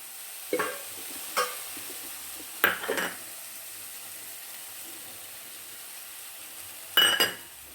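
Prawn biryani masala is sautéed in a pan with a steady low sizzle. Several brief scraping stirs sound at intervals, the last a little louder, with no voices.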